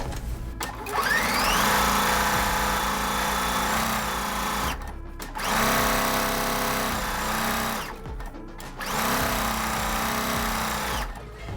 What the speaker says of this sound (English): I'm going to sew them together starting from the other side